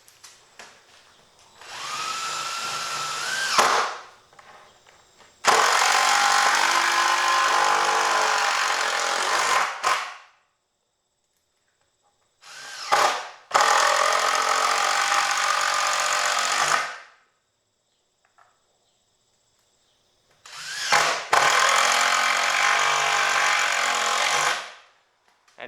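A DeWalt cordless impact driver drives screws in three long bursts of loud, hammering rattle, each lasting several seconds with short pauses and quiet gaps between them.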